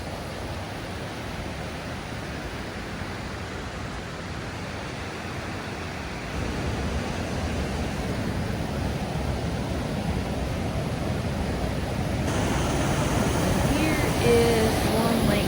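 Waterfall in Marinette County rushing as a steady broadband roar of falling water, continuous and fairly close, swelling slightly louder partway through.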